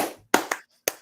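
Two sharp, close hand claps ring out in quick succession, followed a moment later by a third clap.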